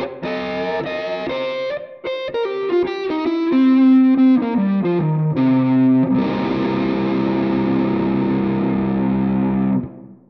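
Distorted electric guitar riff played through the humbucker pickup of a G&L ASAT Bluesboy, with chorus-like effects: a run of quick picked notes, then sustained ringing chords, loud and close with no talking.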